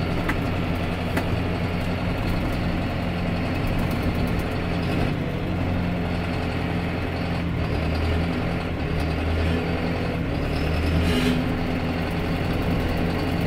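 A John Deere 6320 Premium tractor engine runs steadily, a continuous low diesel drone heard close and alone while the tractor works through its gears.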